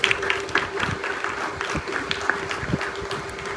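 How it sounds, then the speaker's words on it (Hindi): Applause from an audience at a school inter-campus debate competition, with distinct sharp claps over a continuous crowd clatter and a steady hum underneath, sustained throughout. "उन सब के लिए एक मर्तबा दिल से ताली बजाएं"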